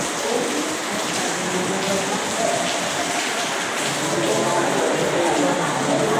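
Rain pours steadily and leaks inside a run-down health center, a dense continuous patter on surfaces with faint drips, fairly loud and close throughout, with a voice talking quietly beneath it.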